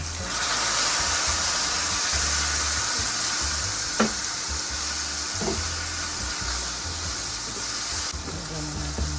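Fish frying in oil for breakfast sizzles and hisses steadily throughout, with a few soft clicks of a utensil against the pan.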